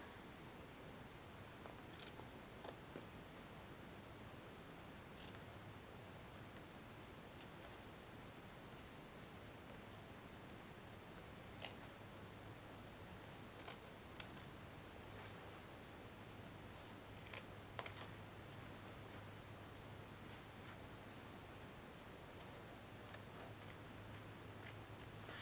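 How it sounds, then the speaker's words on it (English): Scissors snip paper towel while a shirt pattern for a plush is trimmed, with scattered quiet clicks and cuts spread irregularly over a faint, steady room hiss. "So now I can trim the extra paper towel off."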